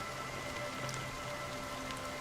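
Steady rain falls in Honkai Star Rail, a dense, even hiss of drops on surfaces with a faint low hum beneath, constant and close throughout with no voices.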